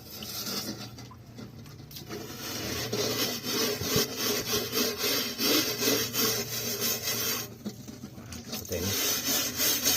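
A burnt pot is scrubbed clean with brisk rhythmic rubbing strokes, a close, coarse scraping that repeats steadily.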